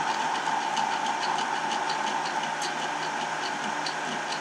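Stepper motors on a Celeritas 3D printer run at very high speed and skip steps, giving a constant loud whirring drone with a faint rhythmic ticking throughout and no talking.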